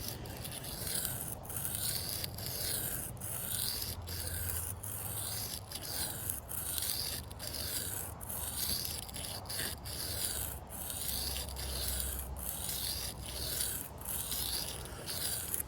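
A stainless steel, titanium-coated Ozark Trail knife is sharpened with rhythmic, repeated rubbing strokes, steady and fairly quiet, close up with no talk.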